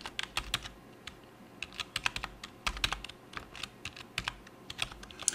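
Quick irregular keystrokes on a computer keyboard as database details are typed, close and fairly quiet, in short bursts with small pauses and no speech.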